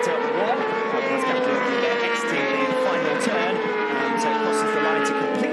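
A WorldSBK superbike at the Mandalika International Circuit exits the final turn, its engine a steady, loud, high-pitched scream with shifting harmonic pitch, held close for the whole stretch.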